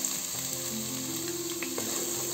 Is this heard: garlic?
yes